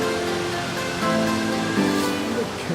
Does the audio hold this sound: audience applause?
no